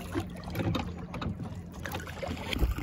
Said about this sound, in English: My dad finally figured the correct way to row the boat.